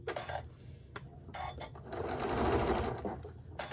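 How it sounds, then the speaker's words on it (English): A sewing machine stitches fabric for a round pot holder, running in short close bursts with brief pauses between them as the work is turned. "I just continue sewing"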